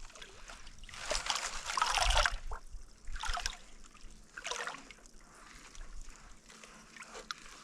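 Water sloshes in a gold pan during winter panning in Arizona, pushed in and out in irregular bursts, close and fairly faint with no talk.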